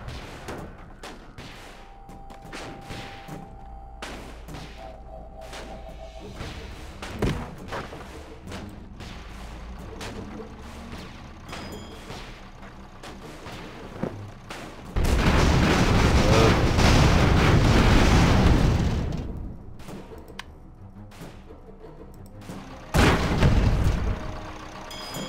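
Airship cannons and explosions in the video game Airships: Conquer the Skies: repeated booming shots and blasts, building to a long loud roaring barrage midway and another heavy burst near the end.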